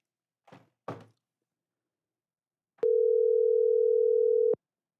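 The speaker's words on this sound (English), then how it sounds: "I'm dialing the guy's number" Two soft thumps, then a steady, loud phone dial tone holding for nearly two seconds before it cuts off, heard alone.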